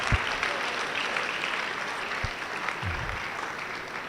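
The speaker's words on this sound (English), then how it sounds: "A round of applause for them," Steady applause from a crowd at an education summit and graduation ceremony, continuous clapping filling the space with a few low thumps, no speech.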